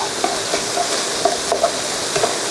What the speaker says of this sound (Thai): ตอนนี้นะครับสังเกตได้นะครับหอมแดงก็เริ่มใส่แล้วนะครับ หมูก็ สุกได้ที่แล้วครับ